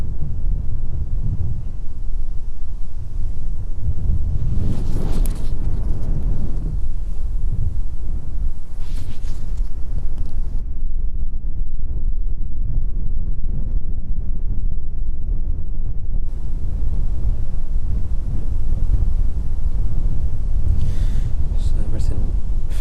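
Strong wind buffeting the microphone outdoors at an airport, a loud continuous rumbling roar in gusts, with a voice speaking over it at times.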